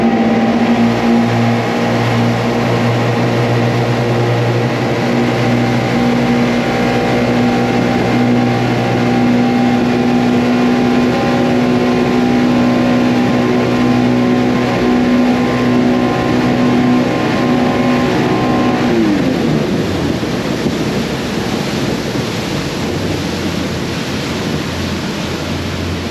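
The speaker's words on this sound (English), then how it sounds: "We're gonna do a wide open throttle again, and I'm gonna go over the windshield." A Yamaha boat's engine runs at wide open throttle, a loud steady roar with a droning tone that shifts pitch near the end, mixed with rushing water and wind noise throughout; no talking.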